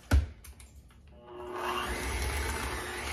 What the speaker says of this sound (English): We're gonna mix that up and then add the chocolate chips.